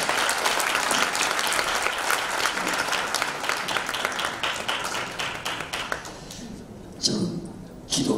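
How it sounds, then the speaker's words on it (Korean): An assembled crowd at a Korean Christian patriotic gathering applauds to welcome a pastor to the podium. Dense, loud clapping runs for several seconds, then thins and fades, leaving a few scattered claps at the end. "우리 박수로 모시겠습니다."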